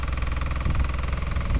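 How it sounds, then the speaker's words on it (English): A tractor over 60 years old, driven by a plough enthusiast, idles with a steady low mechanical throb and faint knocking vibration; a moderately quiet, even engine drone with no talking. "This tractor that he's on is over 60 years old and is just an incredible piece of kit."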